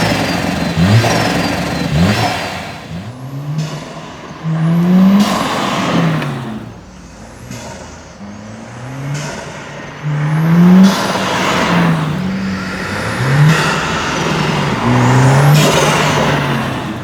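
Mercedes A45 M139 turbocharged engine fitted with an Eventuri carbon intake, revving repeatedly in sharp rising and falling blips with turbo whoosh and intake whistle, loud and close, no talking.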